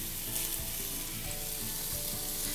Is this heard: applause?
no